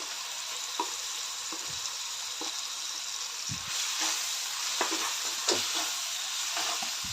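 A ground paste of onion, ginger, garlic, tomato and coconut sautéing in oil for a sprouted moth bean curry, giving a continuous close sizzle broken by intermittent spoon-stirring knocks and scrapes.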